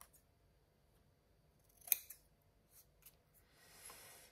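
Close, quiet snips of scissors through paper that tends to fray, with one sharp distinct cut, a few softer follow-up clips, then a brief rustle of paper.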